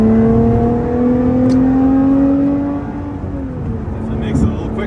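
A 2017 Lotus Evora 400 engine in sport mode accelerates from inside the cabin, a loud steady rising drone that eases off partway through.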